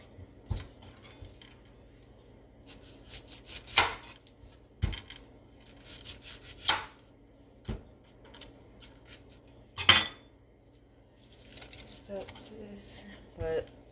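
An onion being cut with a knife on a cutting board while cooking a seafood boil, scattered sharp knocks and clinks of the blade striking the board at irregular intervals, with quiet kitchen background and occasional faint handling noise.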